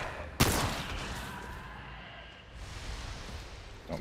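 A single sharp pistol shot in Remnant 2 cracks out loud and close near the start, then fades into a low game ambience with a faint click at the very end.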